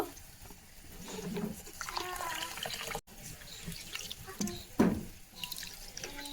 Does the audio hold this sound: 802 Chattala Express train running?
no